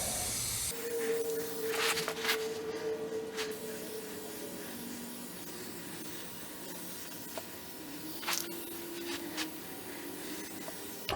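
Undercoating is sprayed beneath a classic car in bursts of hissing spray with rubbing and scraping handling noises between them, fairly close and otherwise quiet.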